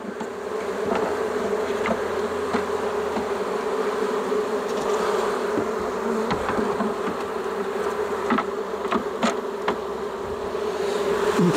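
A swarm of honeybees hums continuously around a hive as they are settled into new frames, some fanning with raised abdomens. The dense buzzing stays steady and close throughout, with occasional faint knocks from the hive equipment.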